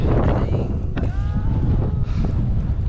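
Wind buffets the microphone in loud, low gusts on a sunny, cold Colorado height, with faint high whistling tones passing through.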